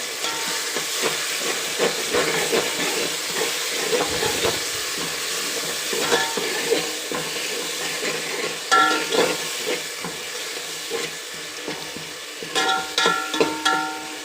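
Country chicken curry with masala frying in a pan, a steady close sizzle and hiss with scraping stirs and clinks from a spoon throughout, no voices.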